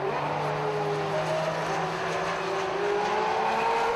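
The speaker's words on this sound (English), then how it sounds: "Driving the Modena seems very demanding." Sports cars including a Ferrari 360 Modena racing around the Fuji circuit, engines droning and shifting pitch as they accelerate, heard steadily at a moderate distance.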